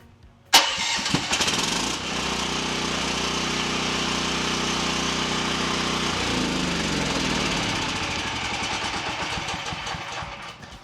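A Volt 4in1 unit's engine fires up by remote start with a sharp initial burst, then settles into a steady, loud idle hum that shifts in tone partway through and tapers slightly toward the end.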